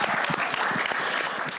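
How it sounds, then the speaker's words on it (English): An audience at a festival applauds with dense, steady clapping that fills the whole short stretch, at fairly low volume and without any talk. "can we just give him a round of applause?"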